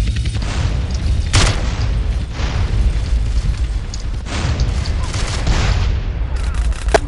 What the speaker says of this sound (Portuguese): faltando um minuto, todo mundo joga granada